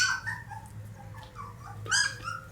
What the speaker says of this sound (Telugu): కుక్కలు ఇన్నే తిరుగుతున్నాయి రా